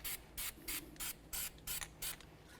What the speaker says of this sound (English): Spray down the area with a little bit of copper never sees.